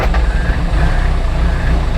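A Classic Mini's 1330cc A-series engine with a Kent 286 cam idles in a lumpy, deep, throaty rumble, loud and close, with steady uneven pulses.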